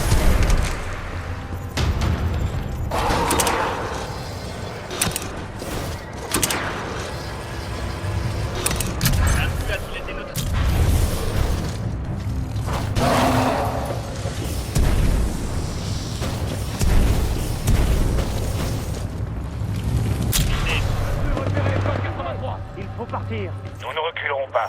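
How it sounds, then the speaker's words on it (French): Grenade blasts in the Titanfall 2 campaign, heavy booming detonations rolling through dense combat noise with gunfire and music, while voices talk over the battle. "Grenade!"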